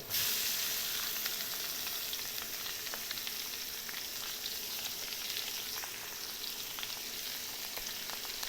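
Clams and garlic stir-fry in a hot pan with a dense, constant sizzle and hiss. Faint scraping from stirring shows through, and no voices are heard.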